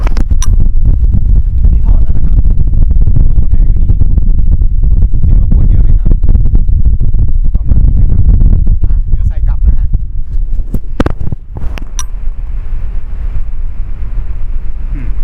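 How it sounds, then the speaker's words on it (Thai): A steady, close rushing whoosh of air from an electric fan on speed three, like wind buffeting a microphone with a furry windscreen fitted, with a few sharp clicks near the end. "นี่คือเสียงพัดลมเบอร์สาม"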